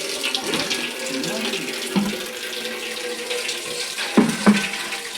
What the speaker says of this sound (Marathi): पाणी कसं सोडतं बालडीत